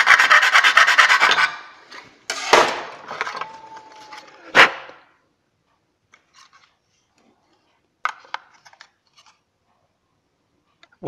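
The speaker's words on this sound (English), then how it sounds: "I'm just going to pluck away at it a little bit. Don't press too hard on the knife." A knife blade picks and scrapes at brittle plastic in short, uneven bursts of rasping. Louder strokes come early and a few faint scratches follow after long pauses.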